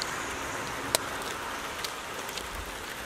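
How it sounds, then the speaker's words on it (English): Steady rain falls outdoors as a constant wash of patter, with a few louder drops landing close by and no talking. "it's fucking raining"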